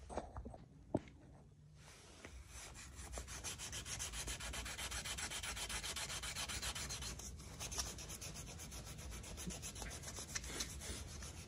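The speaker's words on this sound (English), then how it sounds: "Giving it the second side a final 300 grit sanding." Steady rhythmic rubbing of 300 grit sandpaper against a wooden knife handle, close and continuous, with back-and-forth strokes after a brief quieter start.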